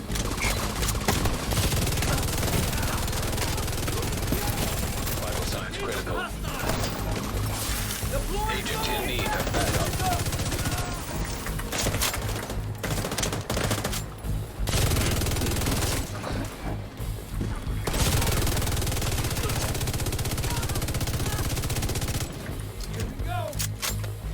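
Sustained rapid light machine gun fire from The Division 2 video game, a loud, dense fusillade of shots with a brief break or two, running almost continuously.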